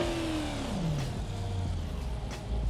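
Car engine from the BeamNG driving game, built as a crawler, revving then dropping in pitch and settling into a steady low drone, loud and continuous with no talking.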